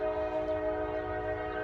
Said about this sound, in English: Right when I get going, I have to deal with the damn loud, noisy-ass train.